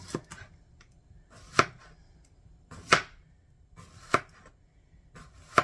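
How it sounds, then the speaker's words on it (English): A knife chops cucumbers thinly on a cutting board in a home kitchen, five sharp, distinct strikes spaced evenly about a second apart, close and clear against a quiet background. "Then it calls for slices of cucumbers. So we're going to do those quite thin too."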